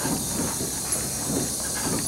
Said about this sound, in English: The boiler no longer is functional, and so today we have it hooked up to an air compressor.